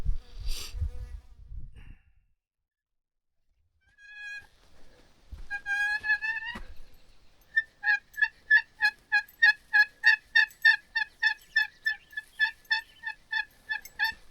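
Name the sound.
wild turkey gobbling on a mountain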